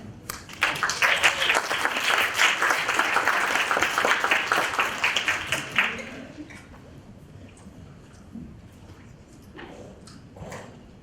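Audience applause welcoming a speaker at a social mobility summit, a dense steady clapping from a sizeable crowd that runs for about six seconds and then stops, leaving quiet room sound with a few faint clicks.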